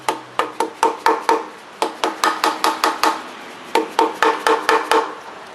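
Light hammer taps strike a part of a '62 Studebaker 289 V8 engine during disassembly: about twenty sharp, close metallic knocks in quick bursts, with a short pause partway through.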